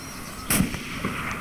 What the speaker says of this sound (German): Warte, ich schieße den mal mit der Sniper ab.